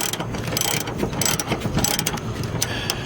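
A ratchet wrench clicks rapidly and continuously at close range while removing the top strut bolts on a 1992 Pontiac Grand Prix during a rear strut change, loud and mechanical with no talk.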